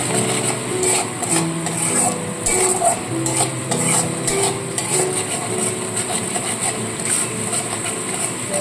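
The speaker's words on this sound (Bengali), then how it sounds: "জলটা দিয়ে খুব ভালো করে মশলাটাকে কষাতে থাকতে হবে।" Spice paste being fried with a little water in a pan for a sesame and pointed gourd dish, a continuous close sizzle under steady stirring and scraping of a spoon against the pan, with no voice.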